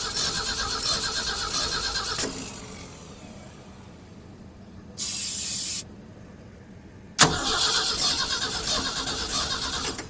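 An old abandoned farm truck engine cranks without firing, a loud rhythmic churning of the starter in two stretches, broken by a short hissing spray burst in the quieter gap between them.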